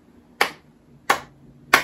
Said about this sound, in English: We can clap for God three times